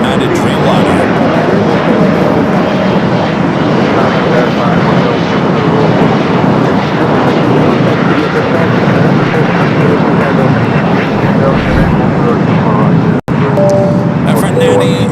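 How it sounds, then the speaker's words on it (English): A United Airlines Dreamliner jet departs with a loud, sustained engine roar and faint tonal whines, cut by one brief dropout near the end, while people keep talking over the noise. "Next departure here on the south side at 25 right is a United Dreamliner"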